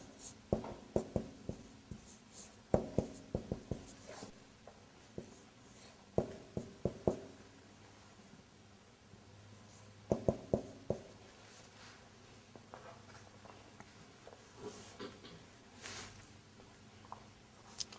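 Pen strokes scratch and tap across a surface as an Arabic verb is written out by hand, coming in short quiet bursts with pauses between them and no talking.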